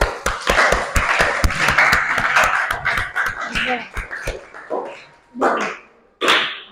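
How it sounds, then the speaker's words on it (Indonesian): Students in a classroom clap together in a dense burst of quick hand claps that thins out after about four seconds into a few scattered, isolated claps near the end. "Tepuk tangan dulu semua."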